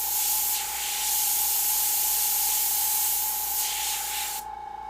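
An airbrush sprays paint while freehanding a snake design, giving a steady, loud hiss that runs almost continuously and cuts off abruptly near the end.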